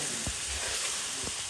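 Meat goes into a pan of spice paste already fried in oil, setting off a loud continuous sizzle with a couple of soft stirring bumps underneath.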